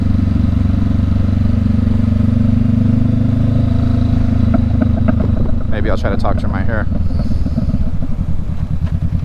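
A Honda CB500X motorcycle engine idles loudly nearby with a steady low rumble, while someone talks over it in the second half.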